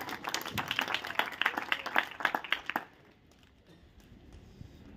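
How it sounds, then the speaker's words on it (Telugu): A church audience at a Telugu sermon claps loudly together for nearly three seconds in a dense, uneven burst, then the applause stops abruptly and only a faint room hush remains. "ఒకసారి క్లాప్స్ కొట్టేసండి మరి అందరూ కూడా ఒకసారి గట్టిగా"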